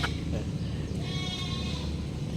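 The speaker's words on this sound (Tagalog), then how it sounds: "Ba't nagmimik-mik yung kambing na yan?" A goat bleats at a farmyard near a well, a wavering, drawn-out call standing out over steady outdoor background noise.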